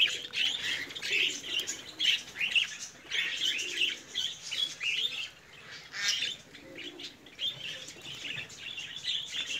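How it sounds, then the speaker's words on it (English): Caged pet birds chirp and tweet in busy overlapping bursts, with wings flapping as they fly around the cage, fairly close and steady throughout. "You can see how these birds are flying all over the cage."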